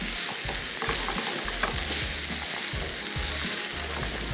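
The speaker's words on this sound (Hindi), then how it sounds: "इन दोनों चीज़ों को अच्छे से हमने अब करना है फ्राई, लहसुन के साथ दाल को।" Lentils frying with garlic in a pan, a steady sizzle with repeated scraping stirs at a close, even rhythm, no voices.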